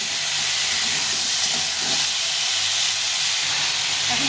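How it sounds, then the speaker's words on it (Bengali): Tomatoes frying in a pan with ridge gourd and potato give a loud, continuous hiss of sizzling, steady and close throughout with no voices. "টমেটো দিয়ে একটু ভেজে নেবো অল্প করে।"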